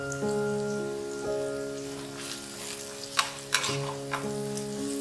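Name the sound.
turmeric sizzling in hot oil with onions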